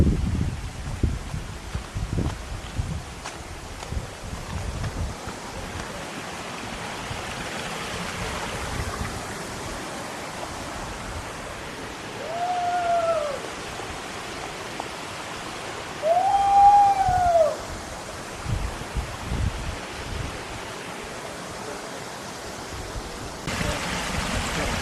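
A hillside waterfall on the path to the Agathiyar temple near Mekkarai in Tenkasi district gives a steady, distant rushing wash of falling water, with a few brief bird chirps and light handling noises over it.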